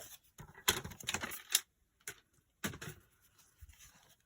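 Scissors or a paper cutter slicing strips of red paper for Christmas crafts, with several crisp, close cutting bursts separated by short quiet gaps and no talking.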